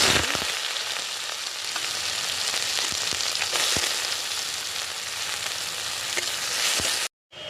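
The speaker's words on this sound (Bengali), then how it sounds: "তেলটা গরম হয়ে গেছে গোটা জিরে দিয়ে দিলাম পেঁয়াজ" Whole cumin seeds and onion dropped into hot oil, a strong close sizzle that holds steady with occasional clicks of a spoon, then cuts out abruptly near the end.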